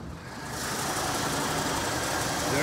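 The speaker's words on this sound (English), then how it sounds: "There's the engine." A 1976 Cadillac Eldorado convertible's 502 engine runs steadily at idle, a continuous low rumble with a faint knocking texture, fairly close and unchanging throughout.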